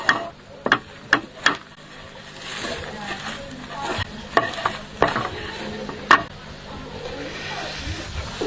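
Coca-Cola boiling down in a pan, a steady bubbling hiss and sizzle broken by several sharp scraping or tapping knocks, with a person talking over it.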